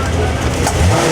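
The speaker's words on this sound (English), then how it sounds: "a Ferrari 250 GT California Spider" A Ferrari 250 GT California Spider engine running close by, a loud steady mechanical roar that rises slightly toward the end, no voices.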